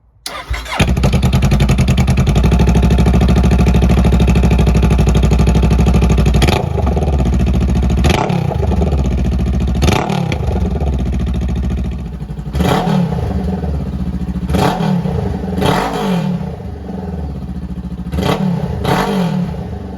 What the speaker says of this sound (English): Turn on the bike.